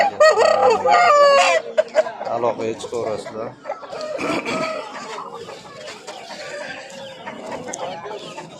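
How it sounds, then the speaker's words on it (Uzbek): A rooster crows loudly up close, followed by ongoing clucking and fowl chatter, with someone talking over the birds. "Hamda xo'roz."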